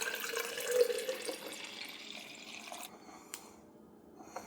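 Homemade hibiscus tea pours into a jar as a steady liquid trickle that thins out and stops, with a faint drip or clink near the end.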